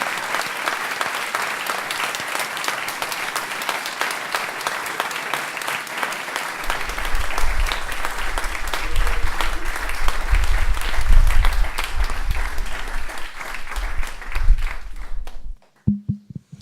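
A large audience applauds after a talk, with dense sustained clapping that swells in the middle and then breaks off abruptly into quiet.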